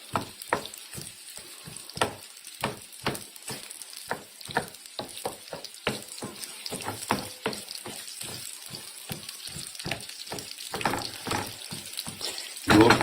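Peppers fry in a pan with dry onions, a soft continuous sizzle punctuated by a long run of quick, irregular utensil taps and clinks against the pan.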